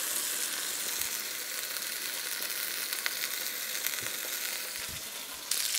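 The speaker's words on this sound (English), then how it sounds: "I've got some oil in the bottom of this Dutch oven, and I'm just going to brown this off." Beef chuck browns in hot oil in a Dutch oven for a chipotle pot roast, giving a steady close sizzle through the whole stretch, with a few soft clunks of the meat shifting and a brighter crackle near the end.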